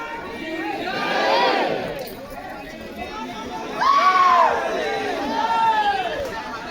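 A large crowd surges along the street during the khappar procession in Kawardha, Chhattisgarh, a swelling roar of shouts and cries rising in two loud waves with nearby voices over it.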